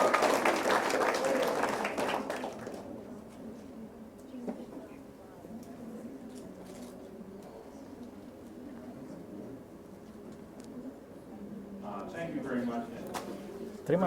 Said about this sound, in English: Let us applause.